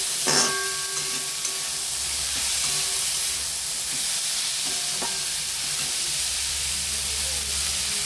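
Vegetables with capsicum and green chillies fry in a pan, giving a steady hiss and sizzle throughout with a few sharp stirring clinks near the start and middle.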